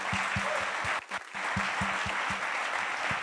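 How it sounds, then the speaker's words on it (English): Audience applause at a cities health event, a dense wash of clapping with a brief dip partway through, accompanied by a regular low thumping beat underneath. "Let's applaud for those folks, too."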